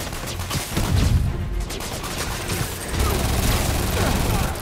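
Dense, continuous minigun fire rattles through a battle in Marvel's Spider-Man, loud and sustained, with heavy rumbling impacts and game effects layered throughout.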